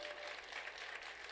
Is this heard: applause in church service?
yes